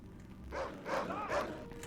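A dog barks in the Medal of Honor video game, a few short yelping barks spaced across a brief moment, fairly faint against a low background hum.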